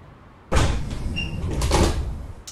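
Rear door at the back end of a BR110 control car in Train Sim World 3 sliding open with a sudden loud onset, then a sustained rumbling, hissing slide for about two seconds before a brief final knock.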